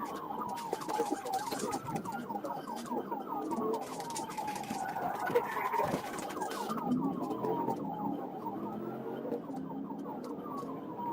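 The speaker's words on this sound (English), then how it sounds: "Trooper Ramos activated his emergency lights and siren" A police car siren wails, rising and falling continuously, sweeping up and down in pitch during a pursuit, with birds chirping in the background and steady ambient noise.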